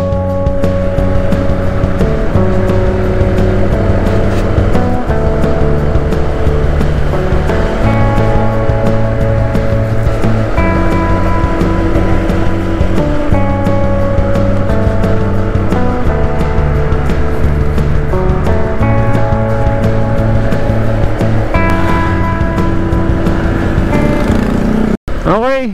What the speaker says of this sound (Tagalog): Ang lakas ng makina ng PCX 160.